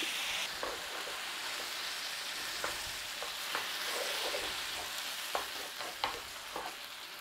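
Juice from a tin of tomatoes sizzles steadily in a hot frying pan with aubergine, a continuous crackling fry broken by occasional sharper spits and stirring clicks, close and moderately loud.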